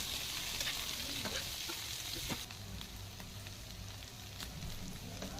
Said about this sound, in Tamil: இப்போ வேக வச்சு கட் பண்ண உருளைக்கிழங்க அதில் போட்டு பொறுமையாக கலரலாம்.